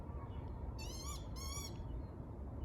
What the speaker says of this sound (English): I think they're lapwings, that's what they sound like.